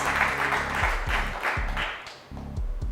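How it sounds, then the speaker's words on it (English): A studio audience at a televised school quiz challenge between Tororo Girls and St. Henry's applauding a team, a brisk burst of clapping with loud chordal stabs of music pulsing underneath. "Let's give them a huge round of applause"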